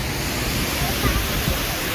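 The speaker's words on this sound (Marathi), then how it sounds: "आपण आहोत सुद्धा सहस्त्रकुंड धबधब्यामध्ये आणि हा धबधबा पैनगंगा नदीवर आहे" Sahastrakund waterfall on the Painganga river near Nanded roars in a dense, steady rush of falling water, loud and continuous throughout, with no clear talk above it.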